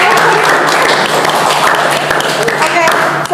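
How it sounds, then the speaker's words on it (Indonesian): Audience applause during an Indonesian podcast session with former Paskibraka flag-raising troop members from Jakarta, a dense, steady wash of clapping lasting the whole moment with a faint voice underneath. "Mungkin boleh kasih tepuk tangannya."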